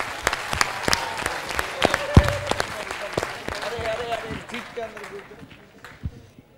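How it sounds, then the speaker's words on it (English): An audience at an induction programme applauds a speaker, a burst of scattered clapping over steady murmur that thins out and fades toward the end, with voices mixed in. "please give him a round of applause"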